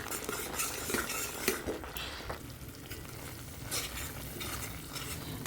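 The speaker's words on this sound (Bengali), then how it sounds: "মশলাটা কিন্তু মিডিয়াম টু লো আঁচেই হালকা আছে ভালো করে ধৈর্য ধরে কষাতে হবে।" Spice paste for a rohu fish curry is sautéed over medium-low heat, with a gentle background sizzle and a run of scraping, clinking stirs from a metal spoon in the pan, fairly soft and without speech.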